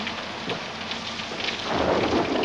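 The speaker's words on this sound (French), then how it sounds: "c'est l'orage et tous ces éclairs" Thunderstorm with steady rain pouring down and low rumbling thunder building louder toward the end, a continuous wash of rainfall close by with no voices.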